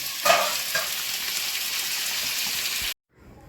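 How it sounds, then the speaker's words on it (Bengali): Potatoes frying in a wok for a home lunch, giving a steady, loud sizzle with a few stirring clatters near the start, then cutting off abruptly to near silence. "এখানে এই কড়ায় আলু ভাজা হচ্ছে"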